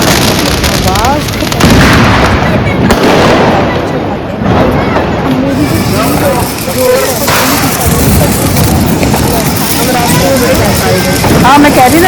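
Firecrackers crackle and pop repeatedly amid a noisy outdoor Deepavali night scene, with sharp bangs scattered throughout and voices talking in the background.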